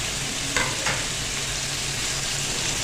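Fried kebabs tipped into a pan of crunchy stir-fried vegetables set off a steady, close sizzle, with a couple of soft clinks of stirring early on and no voices.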